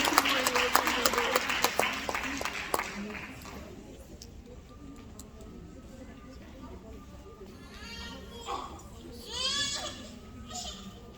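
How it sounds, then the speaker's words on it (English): Applause from an audience at a women's conference panel, loud and dense at first, then fading out after a few seconds, followed by quieter room murmur and a few voices. "Can I have a round of applause"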